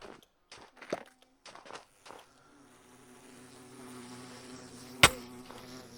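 Angry bees in Minecraft buzz as a steady, moderately loud drone that swells from the middle of the scene, with a few light footstep-like taps beforehand and one sharp click near the end; no one talks.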